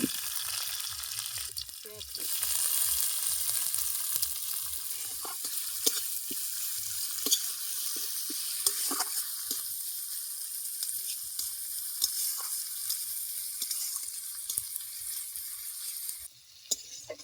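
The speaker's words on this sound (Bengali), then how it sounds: "পেঁয়াজ রসুনটা ভাজা হয়ে গেছে" Chopped onion and garlic frying in oil with black cumin seeds, a continuous crackling sizzle with spatula scrapes and stirring taps at an even pace, no one speaking.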